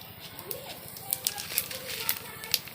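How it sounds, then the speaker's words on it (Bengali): Cumin seeds hit hot oil after fried potatoes in a home kitchen, giving a close, steady sizzle with small crackles and pops over a low background hum. "আলু ভেজে তেল দিচ্ছি আর তেলের মধ্যে সামান্য দেখো জিরা দেবো"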